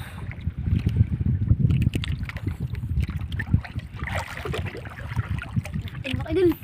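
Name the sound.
small fishing boat on slightly choppy sea waves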